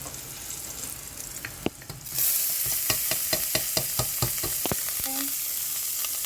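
Rice poured into hot olive oil with garlic bursts into a loud, steady sizzle, followed by a run of sharp scraping clicks as a utensil stirs it around the pan, close and without voices.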